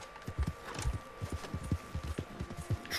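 Horse hooves in Red Dead Redemption 2, a quick run of clip-clop footfalls in an uneven galloping rhythm, fairly close and clear, with faint game ambience beneath.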